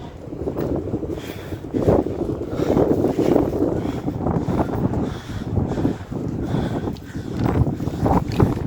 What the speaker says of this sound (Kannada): ಸಖತ್ ಗಾಳಿ.